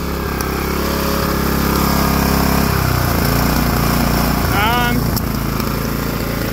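The small engine of a square bale chopper, with some carburetor parts missing, runs on its own at a steady, buzzing pitch, then settles lower partway through. It stays loud and close throughout, and a person's voice is heard briefly.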